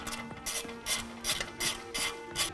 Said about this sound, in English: Grab an 8mm socket and remove this bolt right here.